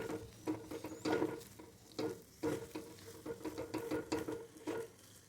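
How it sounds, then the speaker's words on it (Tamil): Spoon stirring a sweet kozhukattai filling of coconut and cardamom in a pan, a soft scraping and faint sizzle in uneven repeated strokes, close and quiet with no talking. "கிளறி கொடுங்க"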